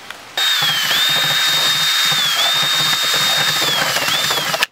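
A power drill bores a hole through a plastic homemade bio filter container, a loud, steady whirring drone with a high whine that holds for about four seconds and then cuts off abruptly.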